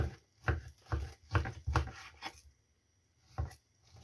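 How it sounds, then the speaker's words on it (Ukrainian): A knife chops through pork belly on a board in several firm strokes, a quick cluster of cuts followed by a pause and one more chop, close up. "І тепер ріжу на такі кусочки."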